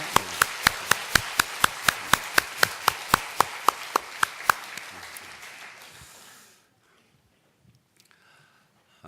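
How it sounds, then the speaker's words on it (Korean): A church congregation applauds newlyweds with a steady, rhythmic unison clap of about twenty sharp beats, backed by a wash of scattered clapping that tapers off into quiet. "박수로 축하하고 격려해 주시겠습니다"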